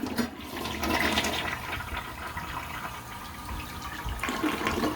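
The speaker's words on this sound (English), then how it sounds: "Let's do our first flush." A toilet with a Bowl Fresh Blue borax drop-in tablet in its tank flushes with a loud rushing gush of water, followed by the swirl and hiss of the tank refilling, heard up close.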